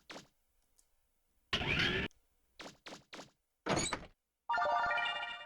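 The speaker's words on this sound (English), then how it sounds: "That sounded like a door opening somewhere." Door opening somewhere in a building in the PS1 video game Mega Man Legends, a series of short mechanical clunks and bursts separated by silence, followed by a brighter sustained tone.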